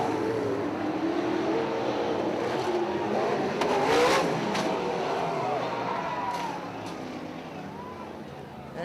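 410 non-wing sprint cars roar out of turn four at Lawrenceburg Speedway, a loud, sustained wash of racing engines with rising and falling revs, a track announcer talking over it.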